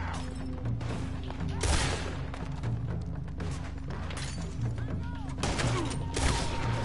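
Gunfire and explosive thuds from the video game Red Dead Redemption 2 during a close-range fight, repeated shots and impacts over a constant low game soundtrack.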